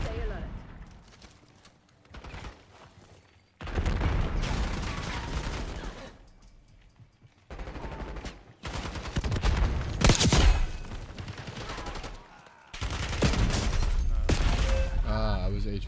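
Video game gunfire crackles in bursts of rapid, loud shots that come and go, with quiet gaps between them and voices talking over the action.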